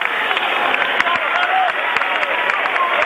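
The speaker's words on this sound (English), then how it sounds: "receiving applause, coming back to his bench." Crowd in a high school boys basketball gym applauds a substituted player returning to his bench, steady dense clapping with scattered sharp claps throughout, moderately loud and continuous.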